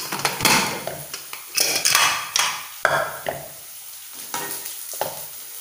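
Onion, green chili and curry leaves temper in hot oil, crackling and sizzling in bursts as a spoon clanks and scrapes against the metal pan in an irregular stirring rhythm, close and fairly loud.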